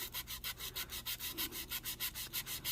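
A 400-grit sponge wet-sands the body of a 1969 Dodge Charger R/T in quick, even back-and-forth strokes, a soft rhythmic rasp heard up close and alone.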